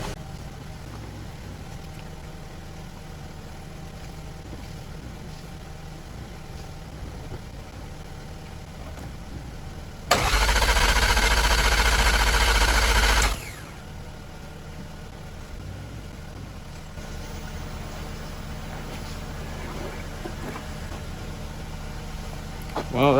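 A Mazda 3 engine cranks loudly for about three seconds, a steady mechanical churn to prime the turbo with oil, standing out from a quieter background.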